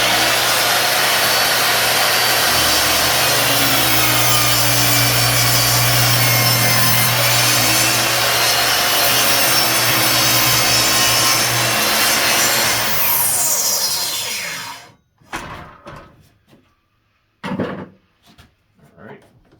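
A power saw cuts through wood at a 34-degree angle for a windmill planter, a loud continuous close-up whine and rasp. The blade spins down after about fifteen seconds, followed by a few short knocks.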